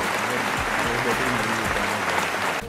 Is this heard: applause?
yes